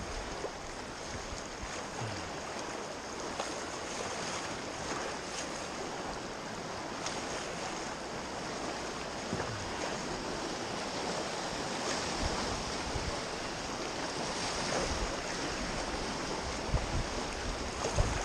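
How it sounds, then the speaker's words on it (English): Rushing river water roars at Figure 8 Rapids on the Nahanni River during a canoe trip. The broad, continuous churning noise is mixed with wind buffeting the microphone, and there is no talk. "Here we are approaching Figure 8 Rapids."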